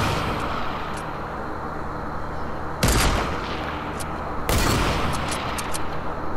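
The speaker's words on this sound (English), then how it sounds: "Oh, he getting sniped. He's getting sniped." Sniper rifle fire in a Fortnite match, with two sharp loud shots standing out over a dense, steady game soundscape, and no voices heard.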